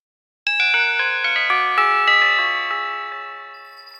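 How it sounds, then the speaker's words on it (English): A tubular bells ringtone rings out as a rapid cascade of rich, metallic chimes whose long overlapping tails hang and slowly fade, loud and close with no talking. "Tubular bells."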